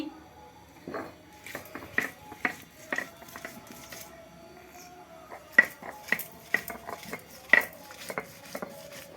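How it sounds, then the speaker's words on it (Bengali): Garlic and onion are ground into paste by hand with irregular knocking and scraping strokes, sometimes bunched and sometimes spaced, heard close up against a quiet background. "রসুন আর পেঁয়াজ বেটে নিচ্ছি"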